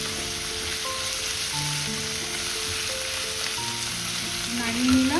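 Mushrooms fry in a pan for mushroom posto, a continuous close sizzle with occasional stirring scrapes and small tonal clinks, swelling briefly near the end.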